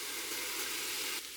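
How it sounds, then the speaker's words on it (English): Minced garlic sizzles with browned white onions in an Instant Pot in a brief, steady, close hiss of frying that eases slightly near the end. "Next, we're going to add 1 tablespoon of minced garlic."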